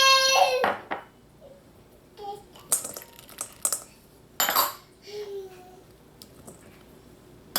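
Dried fruits for a Trini black fruit cake tumble into a bowl in a few separate clattering bursts with brief scrapes and taps between them, close and fairly loud, with a short voice at the very start.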